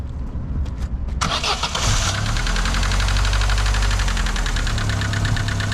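A Vauxhall Vectra Envoy 1.6i petrol engine with about 80,000 miles cranks briefly, catches and settles into a steady, close idle with a faint rhythmic knock.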